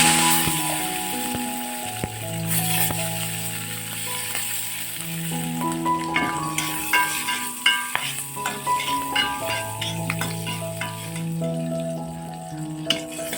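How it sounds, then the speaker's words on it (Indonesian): Plucked melinjo leaves fry in hot oil in a home kitchen with a steady sizzle, broken by irregular scrapes and clinks as they are stirred in the pan. "pokok yang tadi bunda petik kita goreng ya"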